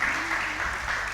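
Dense applause from a church congregation fills a brief moment, steady and loud throughout with no break in the clapping.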